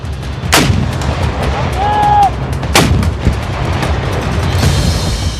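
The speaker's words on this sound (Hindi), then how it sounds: "जेलेंस्की की फौज स्वीडन से मिले ग्रेनेड लॉन्चर से भी हमले कर रही है" Two loud gunfire or launcher blasts, each a sharp broadband crack with a decaying tail, roughly two seconds apart over steady low rumble during attacks in the Russia–Ukraine war, with a faint whistling tone between them.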